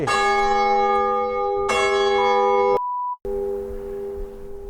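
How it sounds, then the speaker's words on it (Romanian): A church bell at the fortified church in Hărman rings loudly at close range, two strong strikes with long humming decay, then a sudden cut and a fading resonant tail. "dacă începe să tragă clopotul, o să rămân fără auz"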